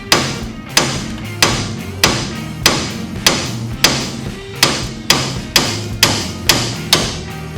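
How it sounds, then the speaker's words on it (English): A hammer taps an upside-down castle nut on a Ford Mustang suspension, a dozen evenly spaced sharp metallic knocks close by, each ringing briefly before the next. "I'm going to take the castle nut, flip it upside down, I got this there, and give it a couple taps"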